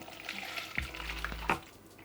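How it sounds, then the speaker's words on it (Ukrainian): Liquid pours and sloshes briefly as meat juices are drained from a metal baking pan, with a couple of clinks and a soft splash near the end. "Тепер з форми, де випікалось м'ясо, виливаю зайву рідину"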